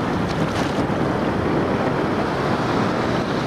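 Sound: ocean waves and wind at South Beach, Washington

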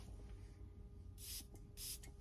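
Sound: perfume atomizer spraying onto a test strip

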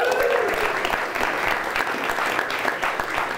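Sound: audience clapping hands

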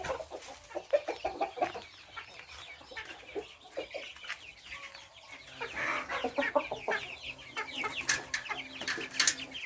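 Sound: free-range chickens clucking

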